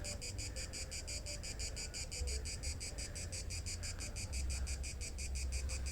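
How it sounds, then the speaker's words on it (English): Crickets in the hills above Sutomore, Montenegro, chirp in a fast, steady pulsing rhythm, continuous and even, with a low rumble and faint frog-like croaks underneath. "There is some sound of crickets that is specific for this area."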